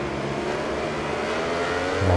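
A Ducati racing motorcycle in MotoGP 20 holds a loud, continuous high-revving engine drone that climbs slightly near the end, with no talk.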